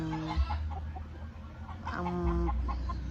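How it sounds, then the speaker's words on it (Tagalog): Hens cluck repeatedly nearby, short throaty calls overlapping in an uneven rhythm, with a couple of louder squawks. "Ang daming manok kasi dito."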